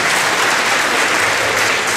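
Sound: audience applause

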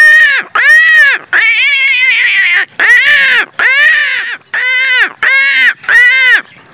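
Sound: man imitating crow calls to summon crows

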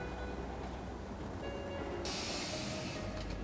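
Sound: subway train pulling in, Cities in Motion video game

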